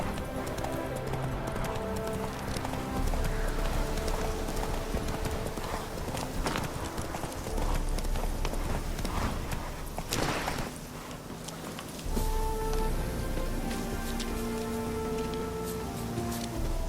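Roach, a horse in The Witcher 3, gallops in a steady, continuous clip-clop of hooves. The hoofbeats run the whole time over a dense layer of game music and ambience, with faint rain-like noise beneath.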